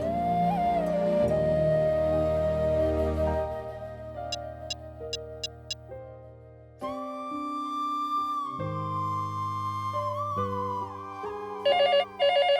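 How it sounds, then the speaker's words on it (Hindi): A landline telephone rings in repeated short electronic bursts amid a tense musical score in a television drama. "लैंडलाइन पे फोन करो।"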